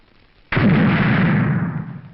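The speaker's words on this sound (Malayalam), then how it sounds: "ആ വെടിപൊട്ടുന്നത് ഹരിക്കുഞ്ഞിന് വേണ്ടിയാ. അതൊരു പ്രത്യേക വഴിപാടാ." Firecrackers burst as a temple offering, one sharp blast followed by a dense rolling crackle that fills the air for about a second and a half before fading, loud and close-sounding outdoors.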